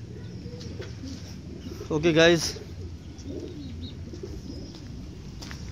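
A pigeon gives a short burst of cooing partway through, close by, over low background noise and a few spoken words.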